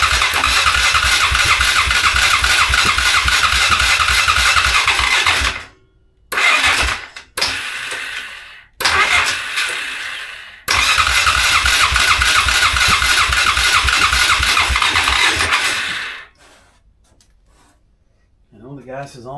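A 2001 Polaris Sportsman 500 ATV engine cranks loudly on its starter motor in several long whirring bursts with short pauses between them, close and unmuffled.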